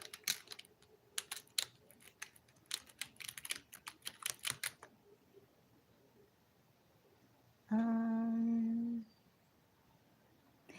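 Rapid clicking keystrokes on a computer keyboard, in quick irregular bursts for several seconds, then quiet, followed by a brief steady electronic tone.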